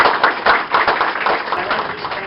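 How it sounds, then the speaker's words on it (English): An open house audience claps for donors, a short burst of brisk hand clapping from a modest gathering, close and fairly loud, fading slightly toward the end. "So this is a really good point to stop and have you give your applause to all these great donors."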